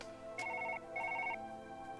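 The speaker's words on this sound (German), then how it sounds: "Telefon!" A telephone in the video game Surgeon Simulator rings with two electronic warbling bursts, a clear repeating trill heard alone without speech.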